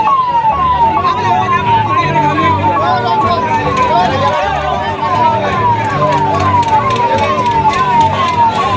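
An ambulance on an emergency run wails through a road blockade, its siren sweeping up and down repeatedly and loudly over a dense mix of traffic noise and crowd voices.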